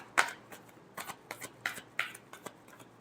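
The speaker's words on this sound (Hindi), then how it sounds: "Last shuffle." Tarot cards riffled and shuffled in a string of quick, crisp bursts, about eight short papery flutters spaced roughly evenly, close and fairly quiet.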